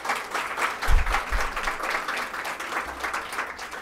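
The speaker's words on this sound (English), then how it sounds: "Could you give them a round of applause?" An audience claps steadily for the men in the room at an International Women's Day 2014 diversity event, a dense, fairly loud round of applause that holds throughout.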